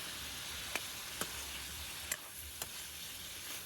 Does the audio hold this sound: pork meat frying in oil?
yes